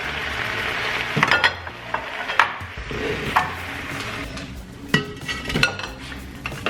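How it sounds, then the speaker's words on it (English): Beef strips fry in an oiled pan for teriyaki stir fry, a continuous sizzle broken by sharp metal clinks and scrapes of a utensil against the pan, close and without talk. "I'm going to set the beef aside for just a minute while I cook the other half of it."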